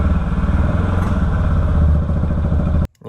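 A 2013 Can-Am Maverick's engine drones loudly and close at full throttle, held at a rev limit so the pitch stays flat with a rapid pulsing beat, then it cuts out sharply.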